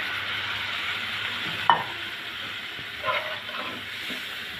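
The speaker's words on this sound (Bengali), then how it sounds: "মশলাটা ভালো করে কষিয়ে নেব।" A steady hiss of spice paste frying fills the clip, with one sharp clink of a utensil and a few soft scrapes, close by.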